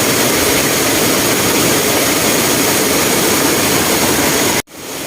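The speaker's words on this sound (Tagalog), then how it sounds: "Ang lakas ng falls guys." Lambingan Falls in San Jose, Jabonga, Agusan del Norte pours with a loud, continuous broadband roar up close, cutting off abruptly near the end.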